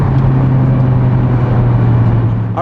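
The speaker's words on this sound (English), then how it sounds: "Man, this car pulls nice." A turbocharged Mitsubishi Evo IX MR wagon with AWD and a six-speed gearbox pulls hard under acceleration, giving a steady loud engine drone heard from inside the car, with no talk.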